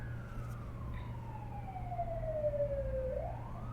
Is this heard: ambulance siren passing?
yes